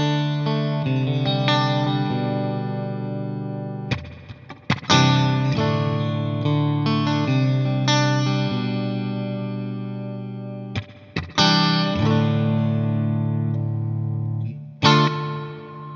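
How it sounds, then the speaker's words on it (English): Electric guitar played through a TC Electronic Drip Spring Reverb pedal, sustained chords and picked notes ringing out with a washy spring tail, a few sharp strums cutting in, loud and close with no talking. "TC Electronic Drip Spring Reverb. It's an affordable pedal. I love the spring reverb sound of it"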